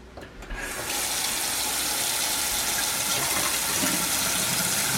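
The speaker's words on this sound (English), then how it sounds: "we're gonna see if the auger cleared the clog and if the sink will drain." Steady rushing water pours and drains continuously through a kitchen sink pipe just cleared of a clog with an auger, loud and close, with no voices.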